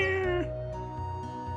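A game cat character from Chrono Cross lets out a drawn-out meow that slides down in pitch over steady synthesized background music, with no talking.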